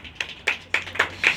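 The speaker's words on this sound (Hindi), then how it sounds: "ताली बजा दीजिए इसके लिए" A few people clapping for a quiz answer, five or six sharp separate claps spaced unevenly over a second and a half, close and fairly loud with no talk over them.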